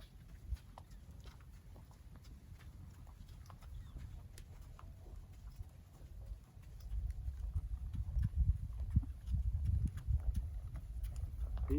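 Hooves of a ridden horse clip-clop at a steady walking rhythm, moderately near and fairly quiet, with a low rumble swelling louder in the second half; no one talks.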